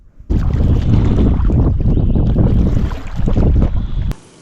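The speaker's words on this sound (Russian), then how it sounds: "ветер крутит." Strong wind over a lake in early spring buffets the microphone in loud, rumbling gusts, roaring steadily before cutting off abruptly near the end.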